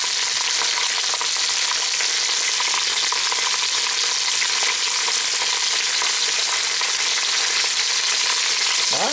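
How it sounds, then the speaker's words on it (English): Chicken pieces frying skin side down in a pan, a loud, dense and continuous close sizzle that holds unbroken with no talking. "we'll give this a few minutes, skin side down, until this gets nice and crispy"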